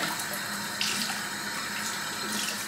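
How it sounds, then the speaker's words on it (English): Warm-to-cool tap water runs steadily into a bathroom sink during face rinsing, a continuous close splashing hiss with no talking. "And now I'm gonna rinse this off my face with, I like to use warm, kind of cool water."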